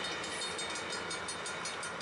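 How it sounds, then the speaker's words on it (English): A Metrolink passenger train hauled by an EMD F59PH locomotive passes heading northbound toward Santa Clarita, a steady loud rumbling roar with faint rhythmic clatter throughout and no voices. "Metrolink, with a veritable EMD F59PH, heads northbound towards Santa Clarita."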